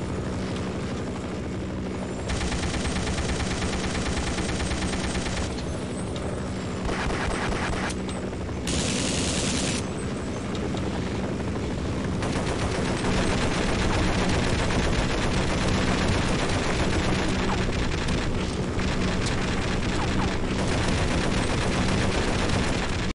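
Repeated gunfire in the horror shooter They Hunger, sharp shots layered over a loud, steady mechanical drone throughout, with brief bursts of louder crackle midway.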